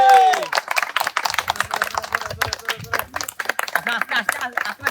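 Fast, uneven hand clapping from a group at a soap-rubbing contest, with a rapid patter of claps mixed with shouted talk and crowd voices throughout.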